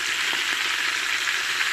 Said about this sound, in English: You want to get that that sizzle in there.